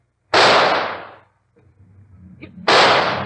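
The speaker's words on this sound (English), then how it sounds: "Stand back, Watson. I'm going to shoot" Two loud, sharp gunshot effects in a Sherlock Holmes radio drama, each a sudden blast with a long decaying tail, separated by a quiet stretch of low rumble and a faint tick.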